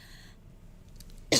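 A single sharp cough bursts out near the close, loud and close after a stretch of near silence with faint background noise.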